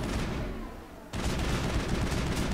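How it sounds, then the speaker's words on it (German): A heavy new rifle in Mass Effect firing a loud, dense automatic burst, a brief gap, then another sustained rattling volley with booming low end. "Dickes neues Gewehr hier. Wollen wir mal gucken."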